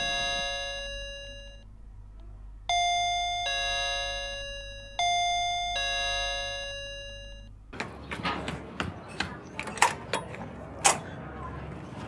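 An electronic doorbell rings out a clear ding-dong chime several times, loud and close. A scuffle of creaks and clatter follows as the door is answered.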